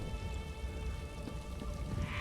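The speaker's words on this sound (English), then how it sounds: "It started to rain." Rain falls steadily in The Elder Scrolls Online, a continuous soft hiss of drops at an even level throughout, with no talking.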